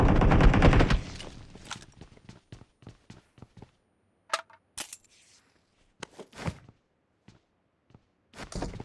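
Gunfire in the mobile battle royale game BGMI, a dense burst of rapid shots up front followed by scattered single cracks and short volleys, some near and some more distant, with quiet gaps between.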